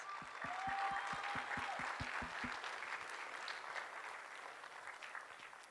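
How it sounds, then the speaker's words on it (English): Guests at a Fur Ball animal shelter fundraiser applaud donors in a steady round of clapping, with a regular low thumping beat under the first half that fades out as the applause continues. "Big round of applause to our donors kicking off the night."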